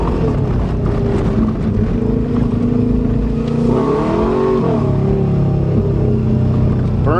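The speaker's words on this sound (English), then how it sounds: "Burns the tires every time I hit the gas." A Subaru Legacy with home-made repairs roars under hard acceleration, its engine revving loud and close with a rising pitch sweep midway through a steady, droning burst.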